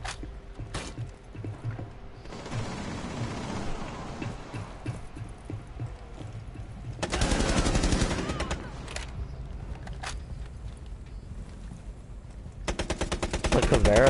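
Gunfire from the Rainbow Six video game, scattered single shots and bursts across the stretch, with a dense loud volley midway and another rapid burst at the end.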